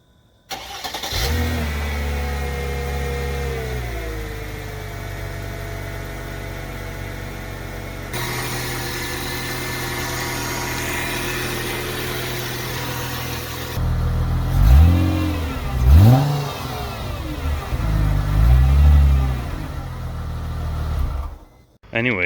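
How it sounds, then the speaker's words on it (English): A car engine cranks, catches and settles into a steady idle, then is revved several times in rising and falling bursts toward the end, close and loud. "a video of me revving it, because everyone likes that."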